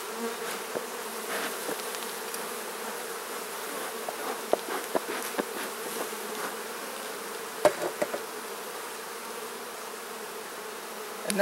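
Honey bees buzz steadily around an open hive while frames are inspected, a dense continuous drone close by, with occasional faint clicks and knocks.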